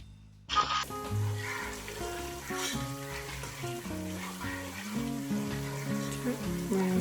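Vegetable soup base frying in a pot for efo riro, a steady sizzle running beneath background music, quiet and close with a brief stir near the start.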